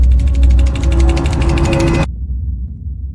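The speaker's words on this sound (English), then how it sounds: "a disturbing rattling sound coming from Rebecca's teeth" Rebecca's teeth give off a disturbing, fast mechanical rattle, a dense clicking chatter heard up close and loud, running steadily then cutting off abruptly, leaving only a low hum.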